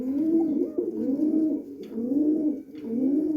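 Satin pigeons coo in a loft, close by, a warm low throaty coo repeated three or four times in a steady rolling rhythm with no talk.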